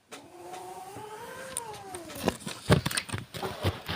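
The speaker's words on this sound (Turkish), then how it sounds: "Kedi kavgası oldu." A cat's drawn-out yowl rising and falling, then sharp scuffling thumps and hisses of a brief fight nearby.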